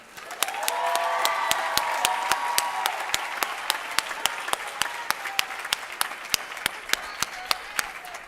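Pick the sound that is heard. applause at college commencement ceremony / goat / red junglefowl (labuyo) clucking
applause at college commencement ceremony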